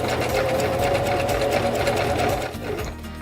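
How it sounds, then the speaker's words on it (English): A sewing machine runs steadily, stitching the bottom and sides of folded fabric for a bread bag with a half-inch seam, its loud even whir continuing alone before easing off near the end. "I'm sewing the bottom here and the sides together with a ½ inch seam allowance"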